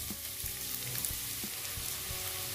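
Chopped medium onion sizzles in hot oil with cumin seeds, a steady close hiss of frying broken by a few soft stirring knocks.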